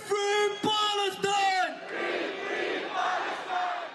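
A large crowd of protesters at a march against the Gaza war chants slogans in unison, loud rhythmic voiced shouts at first, then fading into a broad, echoing crowd roar.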